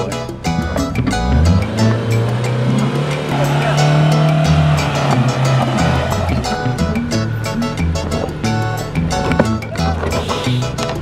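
A car lurches down a steep cliff road with its engine revving and labouring and the bumper scraping, loud and close, while people talk over it.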